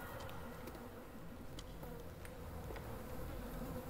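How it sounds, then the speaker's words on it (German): A mutated fly buzzes steadily in the game Hell Pie, a continuous insect drone with faint wing-whine flickers, moderately quiet and alone without voices. "Oh, ist eine Fliege."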